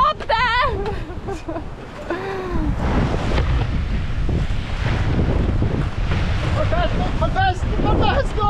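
Strong wind roars over the microphone aboard a Maxi 95 sailboat running fast under spinnaker, a loud continuous rush with water noise, broken by shouting voices at the start and end.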